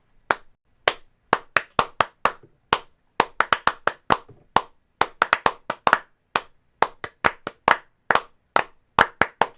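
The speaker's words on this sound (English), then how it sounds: "Just clap like that." Bare hands clap a beat close up and alone, about thirty sharp claps over ten seconds in a fairly steady but slightly uneven rhythm.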